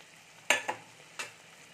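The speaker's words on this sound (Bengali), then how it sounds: "মশলাটা খুব ভালো করে কষিয়ে নেব।" Short frying sizzle of spices with salt, turmeric and Kashmiri chili powder in a pan, quiet background hiss punctuated by three quick stirring scrapes close by.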